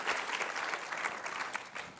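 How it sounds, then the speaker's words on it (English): An audience at a presentation panel applauds with steady, even clapping. It sounds fairly soft and distant, with no voices over it. "if you can all join me, a round of applause for Nori."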